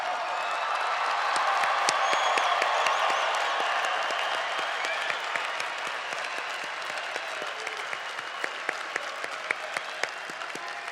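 Sustained applause and some cheering from a large crowd at the April 2018 Grand Valley State University commencement, honouring new graduates, a broad roar with distinct individual claps growing sharper as it thins toward the end.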